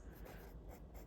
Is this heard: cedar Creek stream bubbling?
no